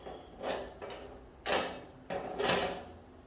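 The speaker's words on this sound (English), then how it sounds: "You're going to grab your screws and you're gonna screw it in." Screws being driven into an IKEA Lennart drawer during assembly, with several separate bursts of scraping, ratcheting mechanical noise close by, spaced about a second apart.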